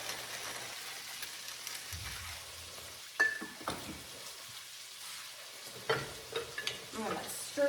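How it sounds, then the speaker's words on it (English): Chopped onions, celery, carrots and garlic are stirred in a pot with a spoon, giving soft scraping and clinking bursts over a faint low sizzle, with quiet stretches between the stirs. "I'm gonna stir this up real good."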